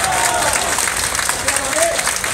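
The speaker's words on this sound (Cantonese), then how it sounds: "大家俾啲掌聲啊！" Audience clapping at an election rally, a dense, loud, continuous burst of applause from a crowd filling the whole moment.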